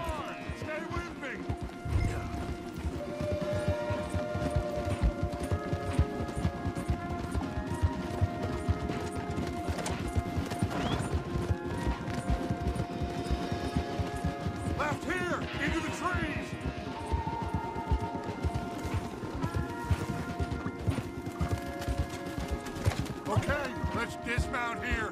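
Steady hoofbeats of horses galloping drum on throughout in the video game Red Dead Redemption II, layered under music and a busy bed of game sound.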